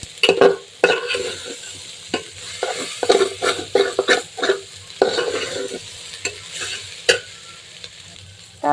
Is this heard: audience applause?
no